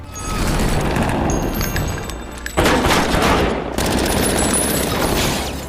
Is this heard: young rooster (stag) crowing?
no